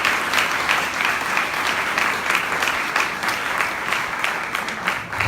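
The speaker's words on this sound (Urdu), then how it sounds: "زوردار تالیاں اپنے چرچ کے لیے، اپنی خوبصورت کوائر کے لیے۔" A church congregation applauds loudly after a choir, giving dense, sustained clapping from a crowd that continues evenly throughout.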